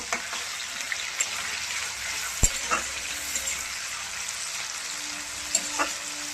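Tomatoes frying in hot oil with a little salt, stirred in a pan: a steady close sizzle with a few soft scraping clicks from the stirring.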